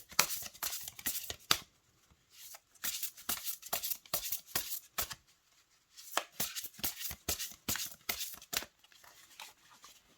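A deck of matte oracle cards shuffled by hand over and over, producing close, sharp papery flutters in quick clustered bursts separated by short gaps and one longer pause, with no voice over them.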